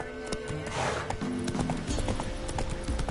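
A horse's hooves clip-clop at a steady trot in the video game The Witcher 3, close and continuous over a soft ambient game backdrop.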